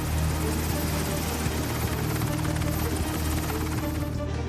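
An MH-60R Seahawk naval helicopter flies with a loud, steady rotor and engine roar. The sound is dense and continuous, with an even buzz throughout.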